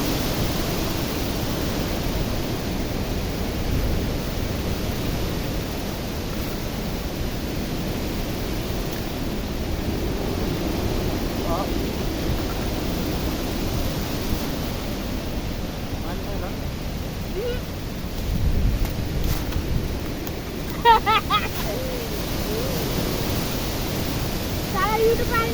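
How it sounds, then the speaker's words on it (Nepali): Strong wind blows outdoors in a continuous loud rush of noise buffeting close by, with brief faint voices and small clicks near the end. "अहिले चाहिँ यहाँ बढी हावा चल्दा"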